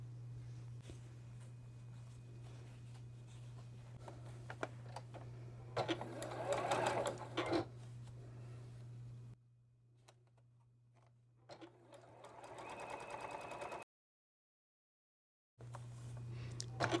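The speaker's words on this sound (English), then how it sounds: "we'll go ahead and chain sew these onto here" A sewing machine runs in steady bursts as fabric squares are chain-sewn, a constant motor hum under rapid needle clatter, pausing briefly and cutting out before resuming, with quiet talk at times.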